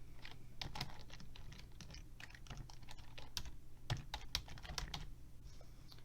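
Typing on a computer keyboard, a rapid, irregular patter of quiet close key clicks with brief pauses, faint and steady against a low hum, no talk.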